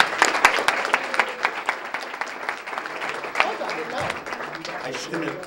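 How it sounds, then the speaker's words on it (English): An audience gives a round of applause for Sally Myers at a Student of the Month recognition, a steady, dense patter of clapping lasting several seconds with some voices mixed in. "we'd like everybody to give Sally a nice round of applause"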